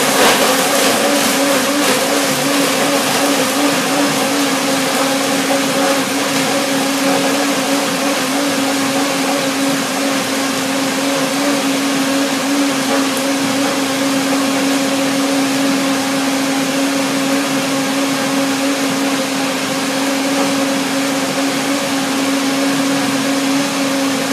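A blender whirs continuously and loudly for the whole stretch, blending pears, cacao and oatmeal with a steady droning motor tone and no breaks.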